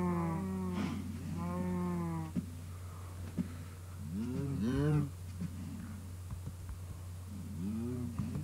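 Cows moo in the Minecraft video game, several drawn-out, fairly close lowing calls spread across the stretch over a steady low hum.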